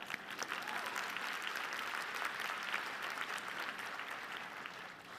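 A college commencement crowd breaks into sustained applause, many hands clapping in a dense, continuous wash that fills a large space at a steady level before easing slightly at the end.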